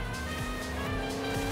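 Car engine drone in the Fortnite video game, a steady continuous motor hum with rising revs and faint tire noise, heard alone at moderate level.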